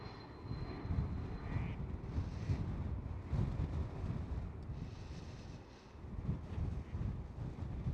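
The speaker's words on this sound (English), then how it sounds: "Next one up, KLM City Hopper E195E2" KLM Cityhopper Embraer E195-E2 jet at Amsterdam Schiphol, a faint, fluctuating low engine rumble mixed with gusty wind buffeting on the microphone.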